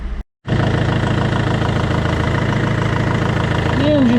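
A Peugeot 407 2.0 HDi diesel idles after warming up, a loud, steady rhythmic clatter with a regular low throb, briefly cut at the start and otherwise constant.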